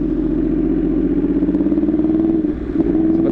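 A modified Yamaha R1 60th Anniversary 1000 cc sport bike hums with a steady, close engine drone during a test ride, loud and even with a brief dip near the end.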